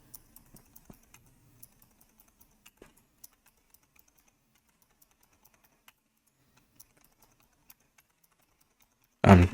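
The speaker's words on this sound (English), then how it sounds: "I'm going to click 1, 2, 3, 4, 5, E, 1, 2, 3, 4, 5, E" Computer keyboard keys pressed repeatedly, with sparse, light clicks spread over several seconds and a louder burst of noise at the very end.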